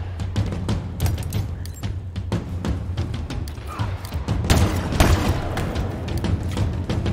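Repeated shots from the stalker rifle in Halo Infinite, sharp cracks at irregular intervals with thuds and battle noise between them, fairly loud and close.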